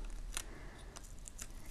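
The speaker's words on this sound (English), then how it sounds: "use this as a guide to now cut my rope" Scissors snip through a climbing rope, a few short crisp cuts spaced apart, close by, with no talk over them.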